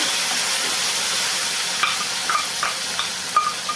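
Curry leaves frying in hot oil give a steady, dense sizzling hiss, with a few sharper crackles and pops near the end.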